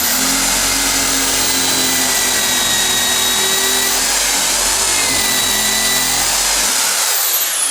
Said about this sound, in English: We'll just go through this piece of wood here.